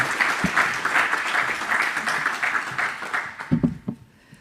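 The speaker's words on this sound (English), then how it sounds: "please join me in a round of applause for Makito" An audience at an education talk claps in a round of applause for a speaker, a dense crowd of hands that holds steady for a few seconds, then thins into scattered claps and fades out.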